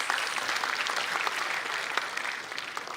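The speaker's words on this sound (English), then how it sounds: "Yes, you can clap your hands." Steady applause from a conference audience, many hands clapping densely and continuously throughout, fairly loud with no pauses.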